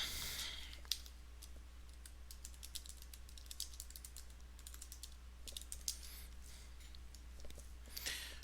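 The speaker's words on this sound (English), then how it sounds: "gotta turn my keyboard back on" Rapid, irregular clicks of typing on a computer keyboard, close and fairly quiet over a steady low hum, with brief pauses between bursts of keystrokes.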